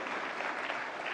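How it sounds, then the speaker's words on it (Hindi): Steady, dense clapping from an audience at the 69th National Film Awards ceremony in Vigyan Bhawan, New Delhi, an even sustained burst without pause. "जोरदार तालियां फिल्मकार के लिए और फिल्म के लिए।"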